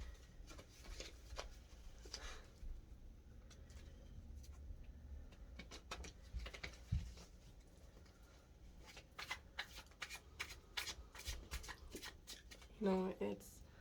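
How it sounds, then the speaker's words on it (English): Tarot cards being shuffled by hand in repeated quick riffling bursts and soft slides, close and quiet, with brief pauses and a faint voice near the end. "Shuffling the cards."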